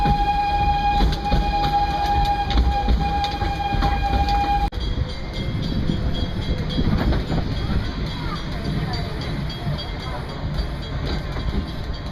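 Steady rumble of a train rolling along the rails at Disney's Animal Kingdom, with a high whine that cuts off partway through as the ride eases down for a red light; faint voices underneath.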